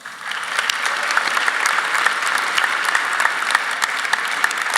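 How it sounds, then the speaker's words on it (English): Audience at a high school commencement ceremony applauding for the graduating seniors' parents, dense sustained clapping from a large crowd filling the hall at an even loudness. "ask our seniors to please rise and show your gratitude and appreciation to your parents with a huge round of applause"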